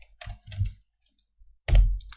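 Short bursts of keystrokes on a computer keyboard as a debug message is typed into C# code for a Unity game, a quick cluster of clicks, a pause, then a louder final clatter, close and alone with no voices.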